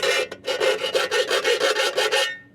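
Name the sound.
filing metal shards with a chainsaw file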